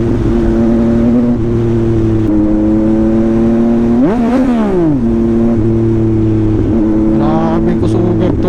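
A 2021 Yamaha MT-09 motorcycle with an SC Project exhaust runs loud and close, its steady engine note sweeping up then dropping sharply during quick-shifted gear changes, with no talking.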